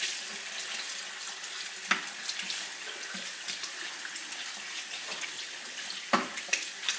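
Cold tap water runs steadily over a whole free-range farm chicken being rinsed in a kitchen sink, a continuous splashing hiss with a few sharper knocks and splashes and no talking.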